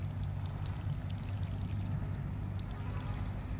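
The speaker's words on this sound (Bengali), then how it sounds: "একদম পরিষ্কারভাবে জল দিয়ে দেবো" Water poured steadily and continuously from a container, a full, close rushing splash with low-frequency body and no talk over it.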